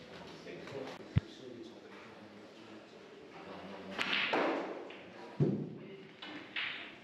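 Snooker balls knocking together during a safety shot at a busy club match, a few sharp isolated clicks and thuds spread across a noisy room with people talking in the background.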